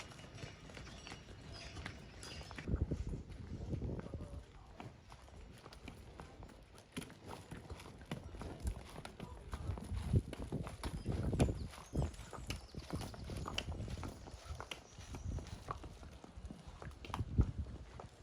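Cows walking past on a rainy mountain stretch of the Camino Frances, with close, irregular hoof clops and thuds shuffling over the ground, moderately faint and continuous, with scattered rustling.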